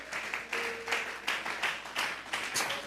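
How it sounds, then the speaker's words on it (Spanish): A congregation claps together in a church service, a moderately distant, rhythmic burst of applause with repeated swells of hand claps, fairly quiet overall. "Vamos a regalarle ofrenda de palmas al Dios de la gloria"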